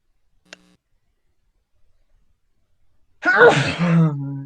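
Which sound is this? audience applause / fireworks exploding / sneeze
sneeze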